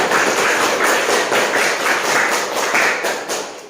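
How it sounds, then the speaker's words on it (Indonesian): Applause for a student group during a classroom session, dense and loud clapping from many hands that keeps going steadily before fading slightly at the end. "Kasih aplaus dulu untuk kelompok 1."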